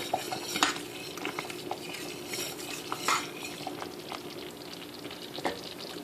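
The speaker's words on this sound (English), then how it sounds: "continually to tend to your grits, stir them very well" Southern grits being stirred in a pot, a utensil scraping and clinking against the metal in scattered strokes with a few sharper knocks, close by, under a soft steady cooking hiss.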